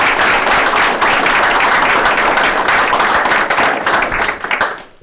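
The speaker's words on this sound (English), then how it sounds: "I'd like to give them a round of applause" Loud, dense applause for police officers' families fills a city council meeting room, with close, steady clapping throughout that thins and fades in the last second.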